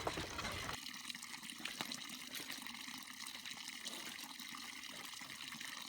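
Water pours steadily from an artesian well beside a mountain road, a continuous splashing gush heard close by with no talk over it.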